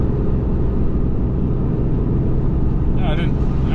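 Ram 3500 dually pickup engine under full load at half throttle while towing a CAT 310 excavator on a trailer, a loud steady low drone with cabin rumble throughout, and a brief voice near the end.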